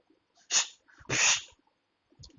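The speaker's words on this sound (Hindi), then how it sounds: "बिल्ली आ गई घर पे।" A cat indoors gives two short, fairly loud cries about half a second apart, with a faint trailing sound at the end and quiet between them.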